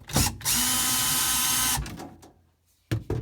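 A power tool whirs steadily for about a second while loosening bolts on a GE freezer during defrost heater replacement, framed by short clicks and clunks, then a pause and a few loud knocks.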